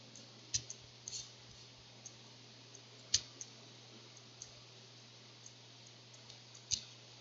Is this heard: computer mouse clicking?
yes